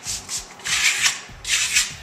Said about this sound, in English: I'm going to switch to that stainless steel trowel and basically do the same techniques that I did